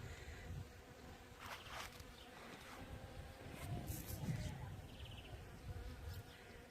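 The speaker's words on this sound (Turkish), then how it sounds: "Şu anda arı seslerini duyuyorsunuz." Bees buzz softly and continuously around flowering olive trees, a faint steady drone with a few closer passes rising above the background.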